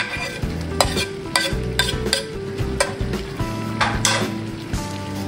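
Onion fries with minced garlic in a pan for pork ribs: a continuous close sizzle broken by regular metallic clanks and scrapes as a spatula stirs against the pan.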